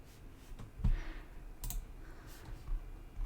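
Computer mouse clicks, a few scattered sharp taps over a quiet background, one heavier thump near the middle.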